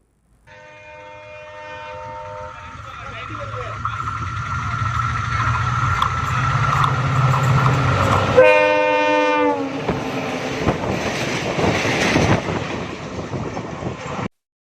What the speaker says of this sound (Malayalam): മണിക്കൂറിൽ നൂറ്റി നാൽപ്പത് കിലോമീറ്റർ വേഗത്തിലാണ് ട്രെയിൻ ഈ ലൈനിലൂടെ കടന്നുപോയത്